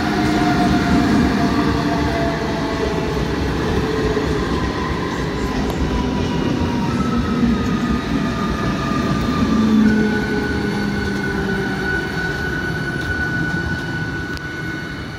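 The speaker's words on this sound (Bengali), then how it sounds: "Up Howrah Memari local, main line দিয়ে ব্যান্ডেল রেলওয়ে জাংশন অভিমুখে যাচ্ছে।" An up Howrah–Memari local train runs along the main line toward Bandel Junction in eastern India, its steady rumble and wheel noise loud and continuous throughout, with faint squealing tones riding above.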